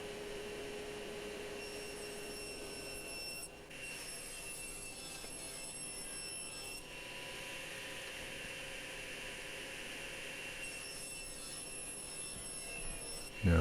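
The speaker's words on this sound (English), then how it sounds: "Take it over to the table saw," A table saw squares up the edge of a maple board: a steady, whining roar of blade and motor that holds evenly for the whole stretch, with small shifts in pitch as the cut goes through.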